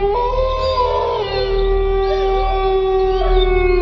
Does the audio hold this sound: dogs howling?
yes